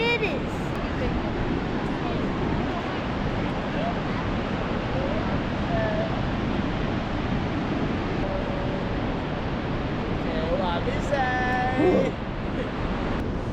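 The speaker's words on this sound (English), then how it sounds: "It's the tallest waterfall in Norway." Vøringsfossen waterfall in Eidfjord, Norway, the country's tallest, gives a steady broad rushing roar with wind buffeting the microphone, while people talk briefly near the end.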